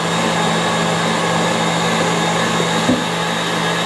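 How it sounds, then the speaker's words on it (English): An electric mixer whips macaron meringue in a mixing bowl, giving a steady, loud, unbroken motor whir with a constant hum throughout and no talking. "I'm gonna stop this mixer"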